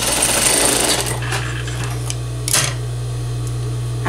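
Sewing machine runs in a fast, steady mechanical chatter as it stitches a seam, loud and close, settling into a continuous motor hum with a brief rattling burst partway through.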